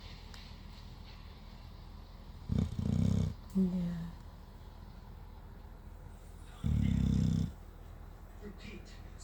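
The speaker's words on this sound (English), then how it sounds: "Who is snoring?" Someone snoring: two loud, close, rasping snores about four seconds apart, each lasting under a second, with a brief voice between them over a quiet room hum.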